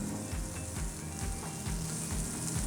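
Onion browning in a frying pan for a horse-style steak dish, a steady close sizzle with soft bubbling crackle throughout, no voices.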